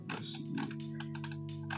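Rapid clicking of keys on a computer keyboard, a burst of typing close to the microphone with a faint hum underneath.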